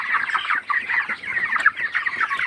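Broiler chickens, 22 days old, cluck in a dense continuous chorus inside a poultry farm shed, a busy overlapping murmur with no talking.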